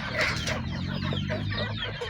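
Backyard village chickens raised for household income cluck steadily and close by, a dense overlapping chorus of hens with no talking.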